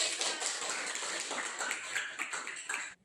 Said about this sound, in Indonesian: kalau sudah beri tepuk tangan untuk kelompoknya